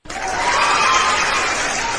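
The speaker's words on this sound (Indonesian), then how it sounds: "kita kasih tepuk tangan dulu dia" Audience applause during a live online debate session, a dense, even wash of many clapping hands that rises quickly and holds steady at a loud level, with faint chuckles mixed in.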